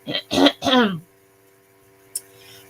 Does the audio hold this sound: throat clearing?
yes